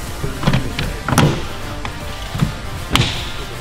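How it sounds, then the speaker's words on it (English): Plastic top cowl push clips on a Tesla Model car being pressed into place by hand, a series of about five sharp distinct snaps and clicks spaced irregularly in a quiet setting. "And you can snap it into place."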